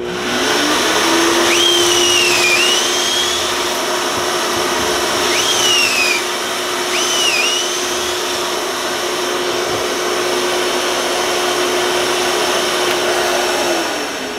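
A shop vacuum hooked to a Kreg 720 pocket hole jig roars loud and steady the whole time. Short rising whines from the drill cutting pocket holes in wood cut through it, and it tails off near the end.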